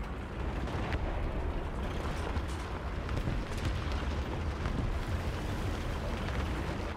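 A tank gun fires at a far-off target in the War Thunder video game, followed by a rumbling, explosive wash that stays fairly dense and moderately loud through the clip, with no talk over it.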